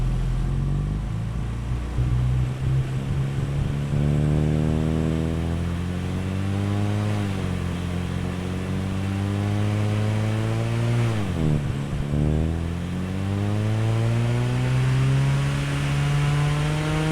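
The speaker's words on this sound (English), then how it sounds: "I will start that engine again." A synthesized car engine from Krotos Studio Pro sound-design software idles low, then revs up and down in smooth sweeps, dipping sharply near the end before rising again; steady and close, no voices.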